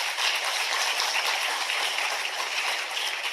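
A large audience at a campus leadership forum and awards event in Noida applauds. The sound is a continuous, even wash of clapping that rushes like heavy rain throughout.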